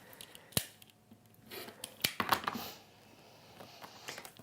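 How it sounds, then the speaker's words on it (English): Scissors snipping the selvage off quilting cotton, a series of crisp cuts in short bursts, close and clear with quiet room tone between snips. "trim the selvage off that"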